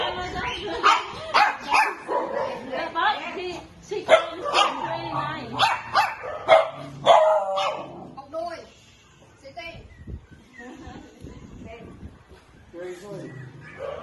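Several dogs bark loudly in bursts, overlapping and close, for the first half, then the barking thins out to quieter yips and background noise while a person talks.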